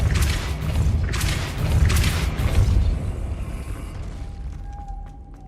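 Depulso spell cast in Hogwarts Legacy, a Harry Potter video game: a heavy booming whoosh with rumbling thuds and mechanical creaks, loud and close, fading into a thin lingering tone.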